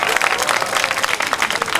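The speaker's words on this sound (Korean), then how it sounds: "여러분 우리 모두 격렬 박수 부탁드리겠습니다" Spirited audience applause at a taekkyeon battle match, dense steady clapping filling the space from start to end with crowd noise beneath.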